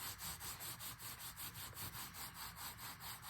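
Paper collage on a journal card is rubbed down with quick, rhythmic back-and-forth strokes, a faint, close scratchy rasp repeating evenly about three times per second, with no talking.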